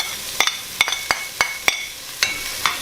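Garlic, onions and green chili peppers sizzle in a pan while a spoon stirs them, producing a series of sharp scraping clicks at a steady rhythm over a soft frying hiss.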